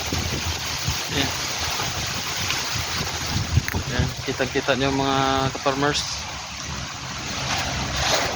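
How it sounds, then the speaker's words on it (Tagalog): Steady, heavy wind from El Niño weather buffets the microphone throughout while a person talks over it outdoors near a stream. "Sobrang lakas ng hangin."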